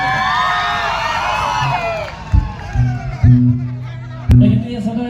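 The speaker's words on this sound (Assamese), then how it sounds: "আজিৰ এই অনুষ্ঠানটোৰ কাৰণে আকৌ এবাৰ হাত চাপৰি এটা আৰু উকি এটা দিয়কচোন" The audience at a concert claps, cheers and whistles in a loud, dense swell that fades after about two seconds, followed by a few louder bursts of sound from the stage.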